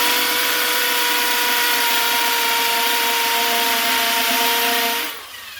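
A hammer drill grinds loudly and steadily into masonry for about five seconds, then abruptly stops.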